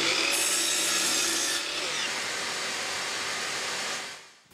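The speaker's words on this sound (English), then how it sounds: "I make a clean crosscut in one end of the boards." A power saw crosscuts pallet wood boards in one continuous whining cut that lasts about four seconds and then winds down at the end, loud and close, with no voices.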